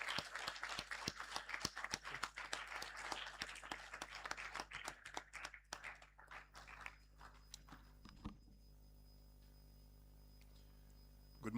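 An audience at a medical and dental council induction ceremony claps for the council chairman, the applause scattered and thin, fading out midway and leaving quiet room tone.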